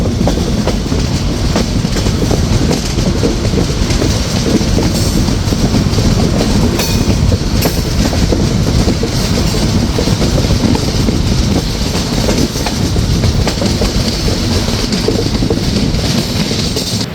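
Chitra Express train travelling from Khulna to Dhaka, rolling steadily on its rails with a loud, continuous rumble and rattle close by, steady clickety-clack running throughout with no talk.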